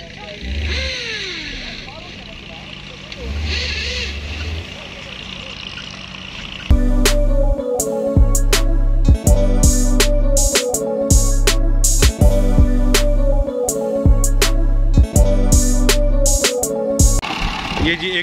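A rally jeep stuck in desert sand revs its engine in loud, surging bursts as people try to push it free. Voices talk nearby, and a heavy, pulsing, rhythmic sound takes over partway through.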